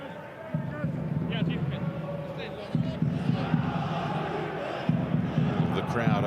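A football stadium crowd roars and chants from across the pitch at an A-League match, a dense, loud wash of voices with rhythmic surges, a commentator talking over it.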